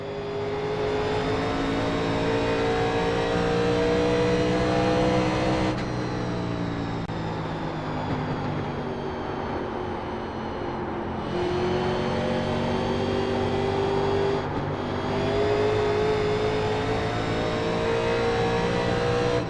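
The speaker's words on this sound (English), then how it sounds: "The car's coming back to us now already." A 1987-series race car in a racing video game, its engine droning loud and steady with rising and falling revs and abrupt shifts in tone as it drives, continuous and close with no talk.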